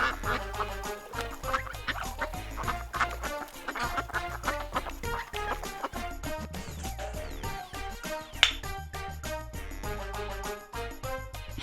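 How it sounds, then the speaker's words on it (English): Duck quacking in a children's farm-animal piece, several quacks set against a dense, steady musical backing that stays prominent throughout. "Duck."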